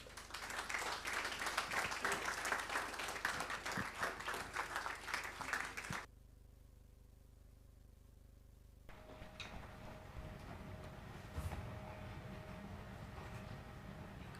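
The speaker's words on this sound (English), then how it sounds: "Please welcome with generous applause, Mr. Aig-Imoukhuede and Ifowe Aig-Imoukhuede" Audience applause at a foundation conversation event welcoming guests to the stage, a dense crowd of clapping for about six seconds that stops abruptly, followed by quiet room tone and faint stirring.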